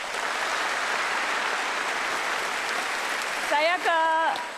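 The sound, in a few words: applause from a TV studio audience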